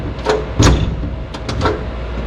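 A car door, apparently on a vehicle being modified with cut plates, swings shut with a firm thud, followed by a few lighter clicks and knocks against a steady low background hum.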